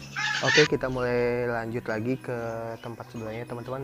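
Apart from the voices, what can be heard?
bantam chickens clucking at a bird market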